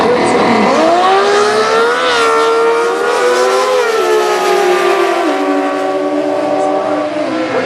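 A turbocharged 125-cubic-inch drag racing car at the US Nationals roars loud and close, its whining engine pitch climbing, dipping and holding steady for several seconds.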